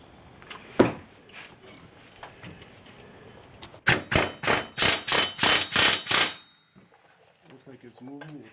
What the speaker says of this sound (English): I'm going to use an air hammer, put a chisel point on it